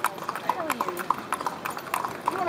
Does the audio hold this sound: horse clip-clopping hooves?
yes